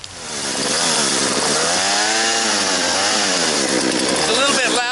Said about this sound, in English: It's a little bit loud with the chainsaw going